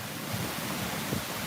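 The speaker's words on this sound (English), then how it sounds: "So wind's picking back up a little bit." Wind gusting during a summer thunderstorm on a front porch in Tulsa, Oklahoma, a steady broadband rush with low rumbling buffets, continuous and fairly loud, with no talk.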